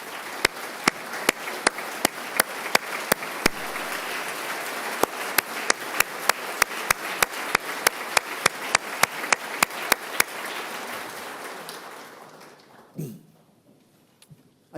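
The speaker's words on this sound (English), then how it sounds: "Kylie, please stand up so we can give you a round of applause" A legislative gallery audience at a state of the state address claps steadily for about twelve seconds, dense even applause with sharp individual claps on top, fading out before a brief thump and near silence.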